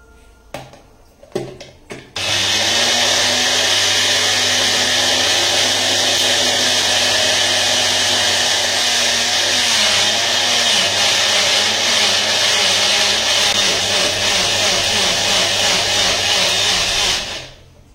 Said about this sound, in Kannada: ಇವಾಗ ನಾವು ತೆಗೆದಿಟ್ಕೊಂಡಂಥ ಇಂಗ್ರೀಡಿಯೆಂಟ್ಸ್ನೆಲ್ಲ ಮಿಕ್ಸಿ ಜಾರ್ಗೆ ಆ್ಯಡ್ ಮಾಡಿಬಿಟ್ಟು ಒಂದು ಅರ್ಧ ಲೋಟದಷ್ಟು ನೀರನ್ನು ಆ್ಯಡ್ ಮಾಡಿ ಇವಾಗ ಇದನ್ನು ನುಣ್ಣಕ್ಕೆ ಗ್ರೈಂಡ್ ಮಾಡ್ಕೋತೀನಿ